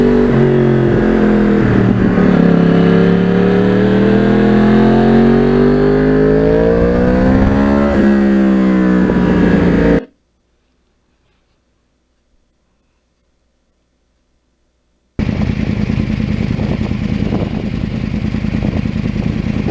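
A 2009 Yamaha R1 crossplane motorcycle ridden along winding switchback roads, its engine droning loudly and rising and falling with the revs, then cutting to silence for several seconds before the engine noise returns.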